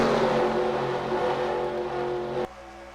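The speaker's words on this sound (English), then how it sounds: "Osborne's got J Gilbert right on his back bumper again" Stock cars race at Talladega in a Pizza Hut X Series event. Their engines make a loud, steady, droning roar that holds for a few seconds and then drops off abruptly.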